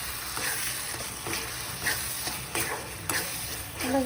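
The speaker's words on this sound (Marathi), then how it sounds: "मस्तपैकी मसाला भाजून झाला." Masala for a spicy Satara-style mutton curry roasts in a pan, with repeated stirring scrapes every half second or so over a steady, close sizzle.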